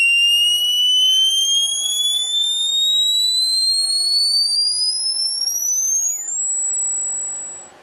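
Electronic circuit built around LED lights producing a loud, clean whistling tone that sweeps steadily upward in pitch, with fainter harmonic sweeps alongside, then holds briefly and fades away.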